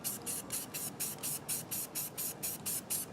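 Rapid bursts of spray paint hiss in a steady rhythm, about a dozen short pulses, as a Jeep tailgate is sloppily spray painted up close with no talking.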